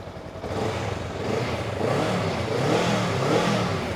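A Honda Rebel 500 motorcycle with its stock exhaust revs up close by, the engine note climbing and holding in a steady, rough mid-range drone.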